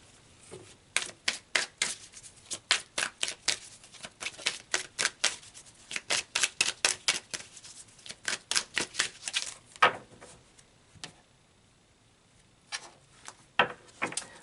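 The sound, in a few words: shuffling and pulling tarot cards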